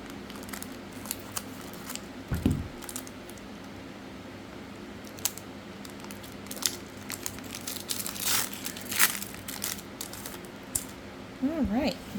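Scissors snipping open the foil wrapper of a Magic: The Gathering collector booster sampler pack, a series of small crisp cuts and crinkles close by, with soft talk in the background.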